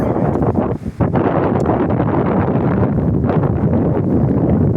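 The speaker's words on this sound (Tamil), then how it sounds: "காற்று குழு குழு குழுன்னு காற்று அடிக்குது" Strong outdoor wind buffets the microphone in a steady, loud roar with gusty swells and one brief lull near the start, in open countryside in Tamil Nadu.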